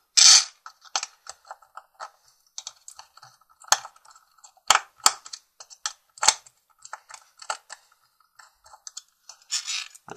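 A battery clip is unfastened from a printed circuit board with a scatter of small, sharp plastic clicks and snaps, close and quiet, with brief pauses between them.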